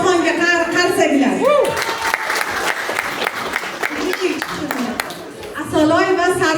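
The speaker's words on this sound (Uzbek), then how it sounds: "Asqarbek bilan Aloxonga qarsaklar." Audience applause at a large Uzbek Navruz celebration in Hannover, Germany: a loud burst of crowd clapping swells in the middle, with a voice speaking over a microphone before and after it.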